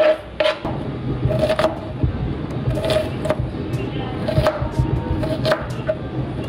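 A knife chops a halved white onion on a board outdoors, roughly a dozen firm, evenly spaced thuds in a steady rhythm, close and clear, with a few quiet scrapes between them.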